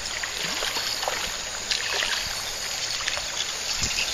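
A fishing creek flows with a steady, close wash of water, a soft continuous rush broken by small splashy trickles.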